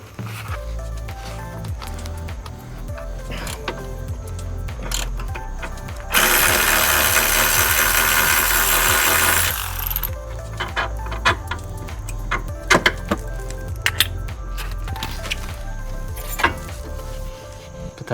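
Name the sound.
tools removing control arms on a BMW 135i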